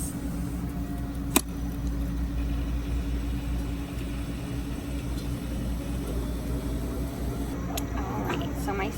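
A laboratory centrifuge spins a sample with a steady, continuous mechanical hum at close range, broken by a single sharp click early on and some faint handling noises near the end.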